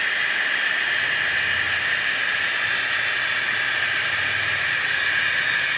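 A Flextail Gear Mini Pump 2x runs steadily while inflating a camping mat, giving a constant high whining, airy drone with no breaks, close and fairly loud.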